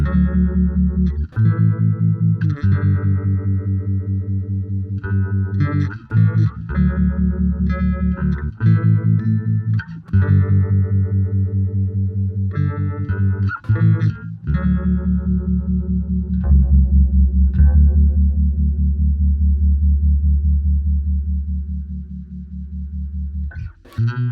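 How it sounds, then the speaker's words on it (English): Bass guitar through a Uni-Vibe modulation pedal on a fast setting plays a riff of sustained notes, with a quick warbling, chorus-like swirl. Loud, steady and without talk. "So we'll start off with the Uni-Vibe,"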